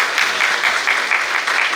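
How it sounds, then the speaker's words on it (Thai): Audience applause at a Thai Women's League 2020/2021 press conference held in a meeting room: a brief, steady burst of many hands clapping, fairly loud and continuous with no talk over it. "เสียงปรบมือจากทุกท่านด้วยค่ะ"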